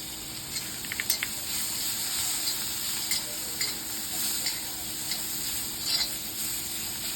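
Soft sizzling and the scrape of a spoon in a pan as a dry bitter gourd stir-fry is mixed with fresh grated coconut; quiet steady frying with a few light clinks and taps, no talking.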